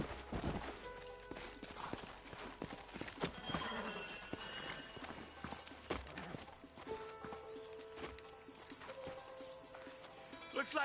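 Horse hooves clip-clopping at a walk with an occasional whinny in Red Dead Redemption, fairly quiet, amid faint outdoor ambience.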